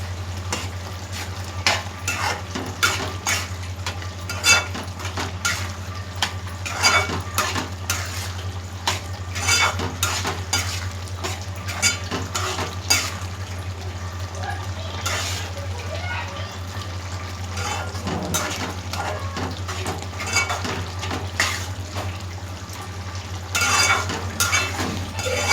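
A mushroom curry with homemade garam masala being stirred in a pan on the stove, with steady frying sizzle and repeated spoon scrapes against the pan, fairly close, running continuously under a constant low hum.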